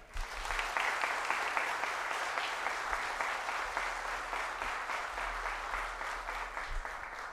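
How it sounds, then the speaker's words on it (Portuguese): A hall full of people applauding the honorees at a formal medal ceremony, dense sustained clapping that holds steady from start to finish with a low hum underneath. "Já peço uma salva de palmas aos nossos homenageados."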